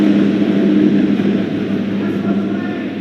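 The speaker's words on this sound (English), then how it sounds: "wait for that plane." Steady broadband roar of an airplane passing overhead outdoors, loud and continuous, with a strong low rumble throughout and no pause in the engine noise.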